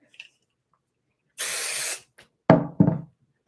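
Spray adhesive hisses in one steady burst of about half a second onto tearaway embroidery stabilizer. Two sharp knocks follow close by, with nobody speaking.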